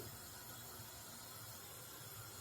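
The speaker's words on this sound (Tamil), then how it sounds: "தண்ணி கீழே கொதிக்குது." Steady soft hiss of water boiling in a pot under a steamer cooking stuffed eggplant, a continuous bubbling rush with no voices.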